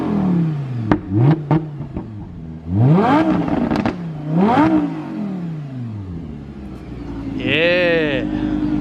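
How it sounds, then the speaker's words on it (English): A rented Lamborghini Huracan Spider revved hard in several loud bursts, the engine note swooping up and falling back between blips, then a final higher rev; voices are heard between them. "We got the boy in the rented Huracan Spider over here. Let's see if he'll rev it up."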